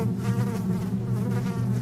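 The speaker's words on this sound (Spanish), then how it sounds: "Abrieron la bodega del archivo y de su interior emergieron cientos de moscas." A dense swarm of hundreds of flies pours out of an opened archive storeroom, a steady, close, continuous buzzing drone with no voices over it.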